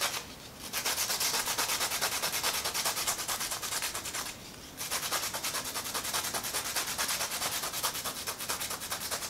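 Sandpaper rubbed briskly over a patch of a bicycle inner tube before glue goes on, a steady close scratchy rasp lasting throughout with two brief pauses, no talking.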